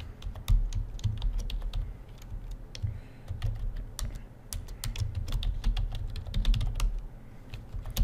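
Steady, rapid keystrokes on a computer keyboard as HTML list items are typed, clicks close and continuous over a low background hum, with no voices.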